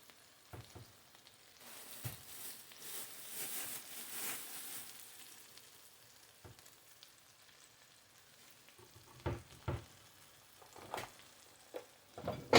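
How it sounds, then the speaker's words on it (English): Eggplants cook gently in a pan over low-medium heat, giving a faint, steady sizzle broken by a few sharper clinks and scrapes of stirring near the end. "I'm cooking the eggplants on like a low medium heat."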